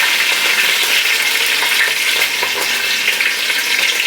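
Wet curry leaves with mustard seeds hiss and sputter in hot oil, a loud, dense crackling sizzle with small pops that keeps going steadily for the whole stretch and has no voices over it.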